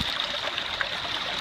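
River water runs steadily through Gold Hog sluice mats on a riverbank, making a close, continuous rushing and trickling wash with a faint hiss and no voices.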